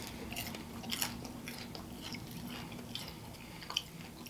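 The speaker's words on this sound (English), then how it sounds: "I'm just gonna take a bite of that real quick" Crunchy bites and chewing on fried yuca (yuca frita) at a Cuban café, with soft crisp crackles and a couple of sharper crunches over low restaurant background noise.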